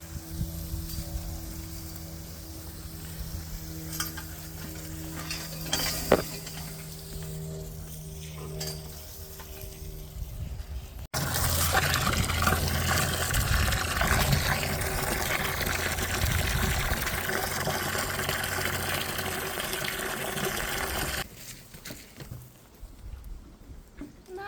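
A garden hose tops up a horse's water, giving a loud, steady rush of pouring water for about ten seconds. Quieter clunks and fiddling with a hose joint come before it, and a softer, calmer stretch follows.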